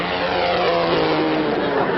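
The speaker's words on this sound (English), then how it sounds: "He's always going someplace in an airplane." A propeller airplane flies past in a vintage TV comedy sketch, a loud, steady, even engine drone lasting throughout.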